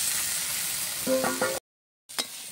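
Fried potatoes go into a spice paste being stir-fried in a pan, giving a soft steady sizzle with a few short scraping stirs, then a brief silence and a return of the sizzle.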